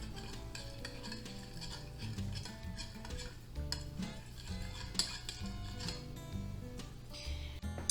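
Garlic is stirred into butter in a bowl for garlic parmesan chicken wings, making a steady, close, rhythmic scraping and tapping of a utensil that continues throughout with a few sharper clicks.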